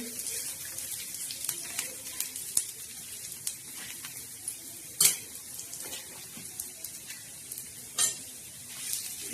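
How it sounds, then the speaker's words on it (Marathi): Black masala spices dry-roasting in a pan, a soft continuous scraping and stirring with occasional sharper clinks of the spoon against the pan. "आता हा असा भाजायचा खरपूस आणि खमंग असा मस्त भाजायचा"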